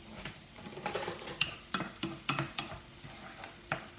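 Onions sizzle in melted butter in a pan, with a string of close, sharp spoon or spatula scrapes and knocks against the pan as they are stirred over a steady low fry.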